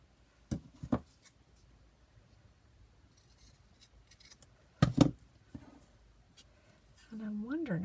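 Scissors snip paper in a few short, sharp cuts while crafting a junk journal, with quiet pauses between snips and a voice starting up near the end.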